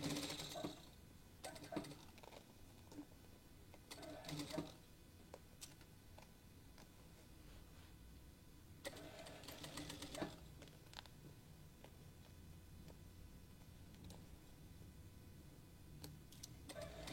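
A sewing machine stitching back over a seam with a half-inch seam allowance, soft steady mechanical whirring and ticking at low level, broken by a few louder bursts of handling noise, with no talking.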